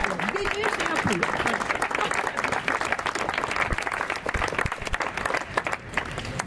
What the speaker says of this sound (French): Applaudissons les Vénus et applaudissons aussi leurs Apollons